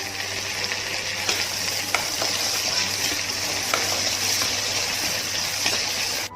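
Onions frying with curry leaves in a pan for mutton curry, a steady close sizzle with occasional scraping stir clicks throughout, no talking.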